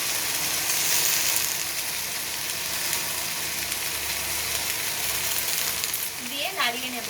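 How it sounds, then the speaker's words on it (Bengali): Soy sauce and chili sauce frying in a pan for egg chicken chow mein, a steady loud sizzle with stirring, a faint voice briefly surfacing near the end. "এবার এর মধ্যে 1 চামচ সয়া সস আর 1 চামচ চিলি সস দিয়ে খুব ভালোভাবে নাড়িয়ে নেব।"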